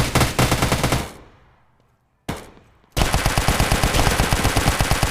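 Gunfire in the Hazmob FPS shooter game, loud and close. A burst of rapid automatic fire stops and fades, a short shot follows, then a long sustained stream of automatic fire.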